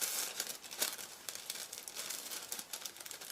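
Scissors snipping around a printed paper image being trimmed for a candle craft, a steady run of close crinkly cuts and rustles with no talking.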